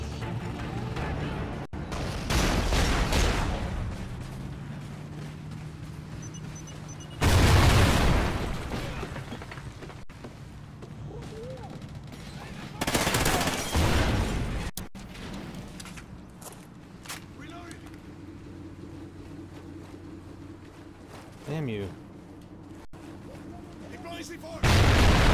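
Call of Duty: Ghosts search-and-destroy match with several loud booming bursts of gunfire and explosions spaced apart, alongside footsteps, game ambience and in-game voice callouts.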